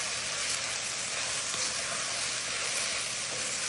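Cooked pasta being stirred into ground meat sizzling in a hot frying pan, a steady loud hiss and crackle of frying that runs unbroken with no voices.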